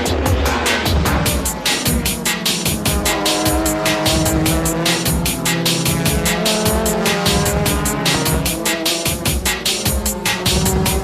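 JGTC race cars howl past on a circuit, engines roaring loudly with repeated sharp bursts and rhythmic pulsing under braking, tires squealing through a continuous, dense mix with no voices.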